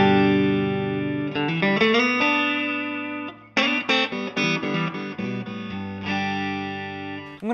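Electric guitar through a Suhr SL67 tube amplifier, high-sensitivity input on the bright channel, sustained chords and picked notes ringing with warm distortion, loud and close with no talking.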